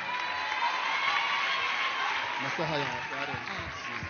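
An audience at a gathering gives dense, continuous applause, with a voice speaking over the clapping in the second half.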